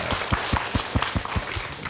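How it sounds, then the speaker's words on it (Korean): An audience claps for a teacher who answered a question during a humanities lecture on the Renaissance, a steady run of rhythmic hand claps in a room, moderately loud throughout. "우리 답변해 주신 선생님을 위해서 박수를 한번."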